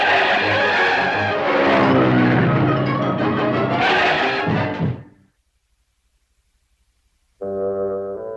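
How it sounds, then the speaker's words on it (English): A small cartoon car driven recklessly by a cartoon duck gives a loud, honking, skidding rush of engine and tire noise for about five seconds, cuts to silence, then a shorter tonal honk sounds near the end. "he drives to work in a modest little cartoon car"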